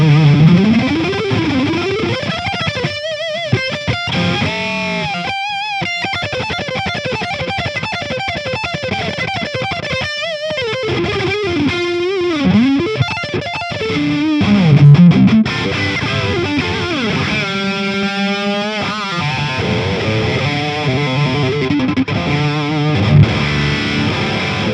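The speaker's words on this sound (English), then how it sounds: "let's do like the high gain channel 4 with the solo" Electric guitar played through an amp's high gain channel with the solo mid boost on: heavily distorted, saturated lead lines with bends, slides and sustained notes, played continuously and loud for about twenty-five seconds with no talking.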